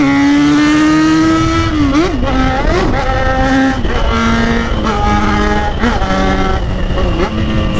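A Yamaha XJ6 motorcycle revs loudly and close up, its engine pitch rising and falling through repeated throttle blips with a sustained roar between them.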